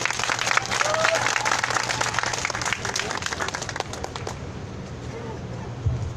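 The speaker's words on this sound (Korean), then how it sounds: "힘찬 박수 맞아주시기 바랍니다" Crowd at an outdoor Wednesday protest rally applauds to welcome a folk singer, with a broad wash of clapping that fades after about four seconds, leaving faint background noise.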